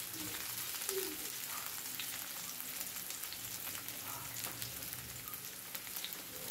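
Milkfish (bangus) frying with onion and garlic in canola oil for paksiw, a steady close sizzle with light crackles and a few soft clinks, no talking.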